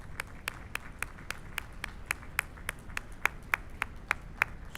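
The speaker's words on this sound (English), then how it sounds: "give a round of applause for yourself and everything that you do" Sparse, irregular handclaps from a small audience at a campus State of the Campus address at IU Southeast, sharp separate claps spread across the moment rather than a full roar.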